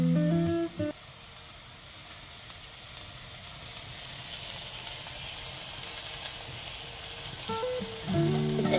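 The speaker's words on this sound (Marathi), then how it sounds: "कांदा आणि कोथिंबीर चांगली तेल सुटेपर्यंत हलवून घ्यायची" Chopped onion and coriander sautéing in oil in a kadhai for a Bombil bhaji, giving a steady soft sizzle throughout with brief clinks of stirring near the start and end.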